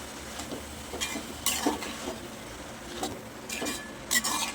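Cabbage and tomatoes being stirred in a pan for a spicy Gujarati cabbage and potato curry: a soft sizzle underneath, with a spoon scraping and clinking against the pan several times at close range, no talking.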